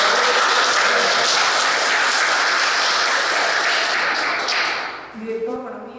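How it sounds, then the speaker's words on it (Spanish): Sustained audience applause at a school opening ceremony for the academic year in Huaura, a dense wash of clapping filling the hall for about five seconds before fading as a voice begins to speak. "Fuerte los aplausos para ella."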